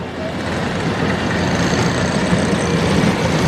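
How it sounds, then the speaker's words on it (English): A six-cylinder truck engine idles close by with a low, steady rumble and even mechanical churn, and no voices break through. "Got a little 6-cylinder motor in here"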